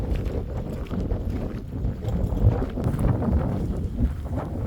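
Steady wind blowing outdoors beside a freshly painted RV, a continuous low rumbling buffet against the microphone with gentle gusty swells throughout, moderately loud and with no speech.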